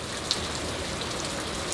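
Steady rain falls outdoors on a house under construction with a garage addition, a close, even hiss with a few faint drip ticks and no voices.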